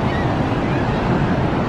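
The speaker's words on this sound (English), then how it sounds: "there's the waterfall" Niagara Falls roars in a dense, constant rush of crashing water, heavy and wind-buffeted at the microphone, filling the short moment without pause.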